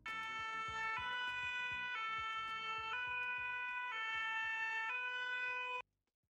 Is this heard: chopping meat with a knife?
no